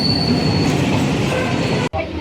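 A train arriving at a station rumbles steadily close by with a faint high squeal from the wheels, then stops abruptly near the end.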